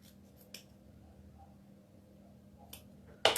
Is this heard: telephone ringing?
no